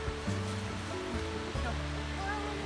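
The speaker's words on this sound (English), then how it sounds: "Sounds like a waterfall down there." A steady rush of a waterfall fills the air near a cave on a hike, with low rumbling tones and a faint voice underneath.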